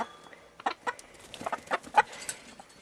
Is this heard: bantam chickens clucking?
yes